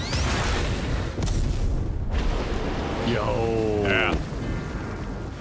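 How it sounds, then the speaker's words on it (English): An explosion in the video game Final Fantasy XIV rumbles under continuous loud game sound, followed by a ringing, swept magical effect. A couple of brief spoken interjections come over it. "Good explosion."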